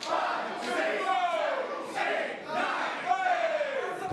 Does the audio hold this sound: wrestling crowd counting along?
yes